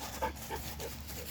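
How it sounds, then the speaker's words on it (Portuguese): Puppies playing outdoors give a few faint yips and whimpers, short high cries spaced through the moment over a steady low background hum. "Tem uns cachorrinhos brincando, né, na natureza."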